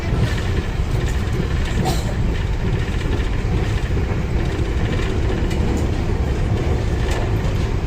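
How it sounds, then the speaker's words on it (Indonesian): Taksaka passenger train overtaking the Gajah Wong train on the Jogja–Jakarta line, a loud continuous rumble of wheels and rolling stock heard up close from on board, steady throughout with no talking. "Ini barusan kereta api Taksaka nyusul kereta api Gajah Wong."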